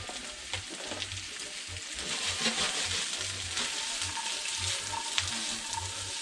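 Mushrooms and garlic-marinated coot frying in a pan, a steady quiet sizzle with soft crackles and intermittent low clinks and stirring, no talk.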